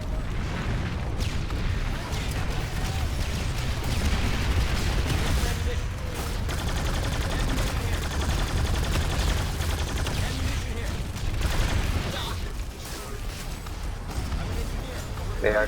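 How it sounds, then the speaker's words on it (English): Dense, continuous gunfire and explosions fill a large-scale Planetside 2 battle, with rapid shots from many weapons blending into a steady roar, and a voice talking over the fighting. "They are shooting from spawn."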